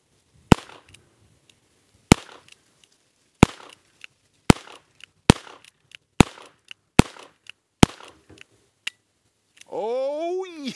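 Single-action .22 revolver shots from a Colt King Cobra Target fired at a target seven yards away: eight sharp, loud cracks spaced roughly a second apart, with faint handling noise between them and a rising whine at the end.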